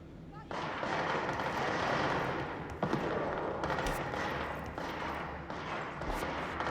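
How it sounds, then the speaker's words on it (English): Distant gunfire in the video game Control crackles in irregular bursts and rolling booms over a dense background wash, with a voice talking over it. "Gunshots in the distance."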